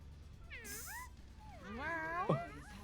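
Cat meow emote in the video game Overwatch 2: two drawn-out, rising-and-falling meows close up, clear over faint game background noise.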